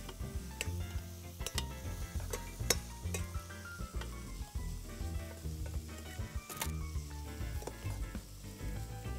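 Chicken browning in a pan for smoked chicken bukhari, sizzling steadily and close up, with occasional stirring clinks and scrapes of utensils over the constant frying hiss.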